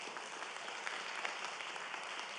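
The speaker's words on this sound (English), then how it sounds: "give yourselves a round of applause to begin with" A live audience at an entrepreneurship and innovation event claps in a steady, dense round of applause that fills the whole stretch at an even level, with no voices rising above it.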